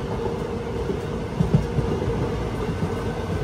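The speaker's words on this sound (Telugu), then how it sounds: "WAP 4 locomotive. పెరిగింది స్పీడ్." A long-distance Indian express train from Chennai Central to Katra, hauled by a WAP 4 electric locomotive, rolls along at speed with a steady, loud rumble of wheels on rail and a few brief knocks of the carriages.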